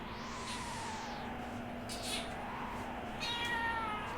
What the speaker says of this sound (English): I know I'll pick him up and he will meow for you.